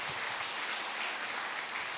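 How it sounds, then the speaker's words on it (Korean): A church congregation claps together in a blessing applause during a Korean Sunday worship service, a steady dense patter of many hands filling the whole moment without voices. "우리 축복의 박수 드리겠습니다"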